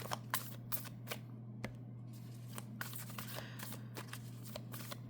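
Oracle cards are handled and shuffled while an ancestor card is drawn, producing soft irregular flicks and taps over a quiet, steady hum with no talking.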